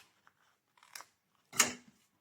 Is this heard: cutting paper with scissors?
yes